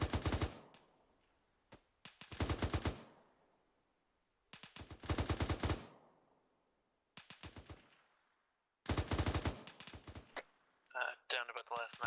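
Automatic gunfire in Arma 3 during a military platoon training session comes in several long, loud rapid-fire bursts separated by short pauses, with faint voices and chatter near the end.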